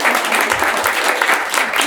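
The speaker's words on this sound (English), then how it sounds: "We love clapping here." Audience at an author talk applauding warmly, a dense, even wash of clapping that is close and loud for about two seconds.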